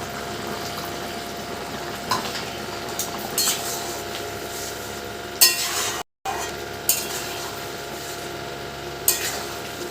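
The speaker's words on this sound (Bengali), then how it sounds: "আর দেখো এটা ফুটছে" A curry with poppy seed paste bubbles steadily in a pan, with a low continuous simmer and occasional light clinks of utensils nearby.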